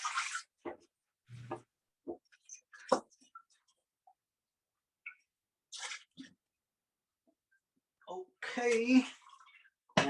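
A pan washed under running water with intermittent splashes, scrubbing squishes and clinks, spaced out with quiet gaps. Voices talk nearby, and a longer burst of speech and water comes near the end.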